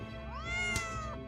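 A cat gives a single clear, drawn-out meow that rises and then falls, close by and alone.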